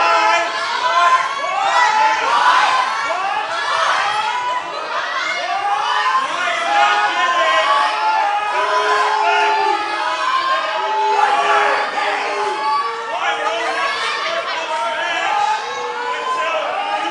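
A wrestling crowd at a live event in Old Forge, Pennsylvania cheers, shouts and chatters loudly and without a break. The roar is dense and layered with many voices, including higher children's shouts.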